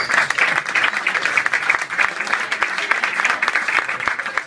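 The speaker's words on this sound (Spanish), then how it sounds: "un fuerte aplauso" Enthusiastic applause at a basketball trophy presentation for Carlos Bravo of Queso Cerrato Palencia, a brisk, close crowd clapping with distinct individual hand claps, loud and sustained throughout.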